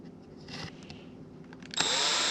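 A power drill bores a small hole in wood for a turned acorn birdhouse ornament, a rough grinding buzz that rises sharply into a steady, louder whine for the final half second.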